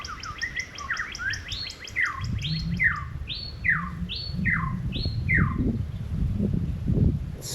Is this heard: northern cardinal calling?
yes